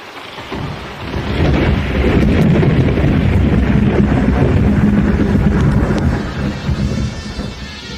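Thunderstorm in an audiobook: a loud, sustained roll of thunder rumbles low for several seconds over a steady wash of rain, swelling after the first second and easing slightly toward the end, with no voices.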